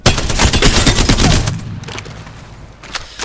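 Heavy machine gun in Apex Legends fires a rapid sustained burst of loud, close gunshots for about a second and a half, then the shots thin out into scattered tail echoes.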